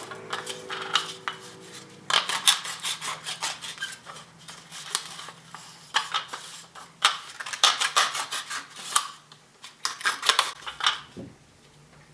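Notches being cut into the side of a homemade drying rack for metal clay, heard as bursts of close, crisp snipping and scraping cuts with short pauses between them, and no voices.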